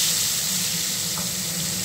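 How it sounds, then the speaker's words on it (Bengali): Fish fries in hot oil in a wok, giving a loud, even sizzle that holds steady throughout the short stretch with no talking. "কড়ায় তেল দিয়ে দিলাম, দিয়ে মাছটাকে ভালো করে ভেজে নেব"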